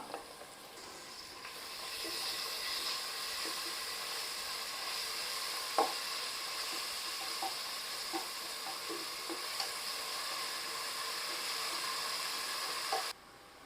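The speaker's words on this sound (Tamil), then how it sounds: "இந்த வெங்காயம் வதங்குறதுக்கு உப்பும் சேர்த்துக்கலாம்" Onions sautéing with salt in a pan for vegetable biryani give off a steady, close sizzle, with occasional soft clicks from stirring throughout, and no talking.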